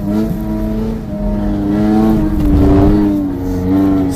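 A race car engine on an ice track during a lap roars close and steady, its harmonic drone rising and falling as the throttle works, with a surge of revving near the middle.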